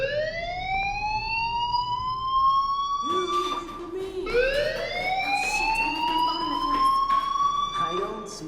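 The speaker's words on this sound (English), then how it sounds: "do you hear that fire alarm? That means you should be outside." Wailing school fire alarm siren in the video game Life is Strange, rising and falling in long sweeping tones that restart around the middle, loud and continuous with some game sounds beneath.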